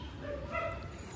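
Dogs barking and yipping near a parked car at night, a few short whining barks rising over a steady low background hum, fairly faint.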